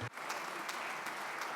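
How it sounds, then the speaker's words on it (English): Audience applause at a plenary session as the Secretariat staff stand to be thanked, a steady broadband wash of many hands clapping that starts abruptly and continues evenly at moderate volume throughout. "I'm going to ask the Secretariat and their staff to stand up to receive the applause of everyone."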